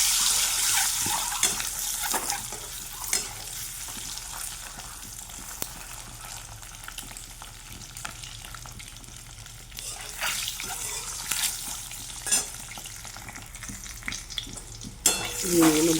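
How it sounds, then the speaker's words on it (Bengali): Eggs fry in a pan with a constant soft sizzle, broken by occasional stirring scrapes and light clatter, fairly quiet and close with no talking. "ডিমগুলো ভাজা হয়ে গেছে,"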